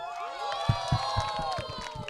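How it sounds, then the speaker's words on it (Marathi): At a Holi party ramp walk show, the audience claps and cheers in a rhythmic, moderately loud burst, with voices calling out over the beat. "सगळ्यात आधी जोरदार टाळ्या वाजवा"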